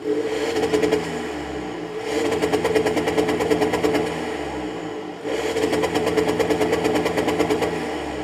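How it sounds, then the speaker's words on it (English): A BMW 125d with a B47 diesel engine running on a dyno and hitting a hardcut limiter. Two loud, sustained rev runs each stutter into rapid, machine-gun-like pops and cuts, with a brief drop between them. "So we've put an hardcut limiter and launch control, which we'll listen to that in a second."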